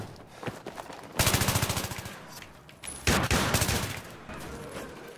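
Gunfire from the video game Battlefield 3, two loud bursts of rapid shots separated by a brief lull, with faint footsteps and game noise between them.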